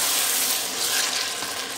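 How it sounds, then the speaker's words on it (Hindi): Yogurt frying with biryani masala in a pan for chicken biryani, giving a continuous close, bright sizzling hiss with slight bubbling crackle that stays steady throughout. "2 चम्मच हम दही के डालेंगे और इसको अच्छी तरह भूनेंगे ताकि बिरयानी का मसाला अच्छी तरह बने"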